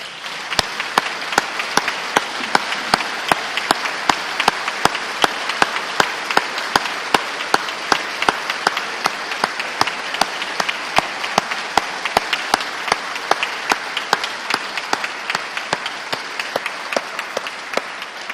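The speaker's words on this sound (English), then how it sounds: "Would you please join me in a round of applause" A long, even round of applause on a state House of Representatives floor, dense crowd clapping sustained at a steady level throughout with sharp individual claps standing out.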